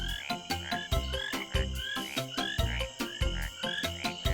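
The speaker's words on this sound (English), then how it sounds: "green tree frogs are sometimes known as rain frogs" A chorus of green tree frog calls, repeated croaking pulses in a steady rhythm, loud and close, with no voices.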